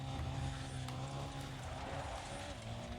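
Need for Speed Undercover car doing nitrous-assisted handbrake boosting, a steady loud engine drone with a sustained tire squeal and skid running throughout, no voices.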